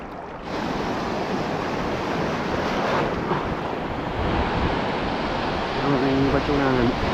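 Broad, steady rush of ocean surf during fishing mixed with gusty wind buffeting the microphone, loud and continuous, with a brief voice near the end.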